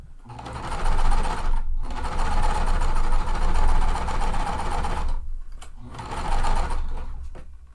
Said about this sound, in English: I'm just making sure that I'm consistently sewing the 1/4 inch